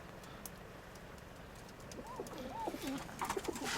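Soft pigeon coos rise and fall near the end, low and rounded, over a steady outdoor background hiss.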